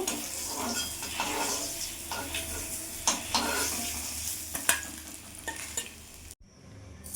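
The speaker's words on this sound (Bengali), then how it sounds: "এবার বেগুনগুলো ভেজে নেব।" Aubergine slices fry in hot oil with a loud, close, continuous sizzle, broken by utensil scrapes and clinks as the pieces are moved. The sound cuts off abruptly near the end.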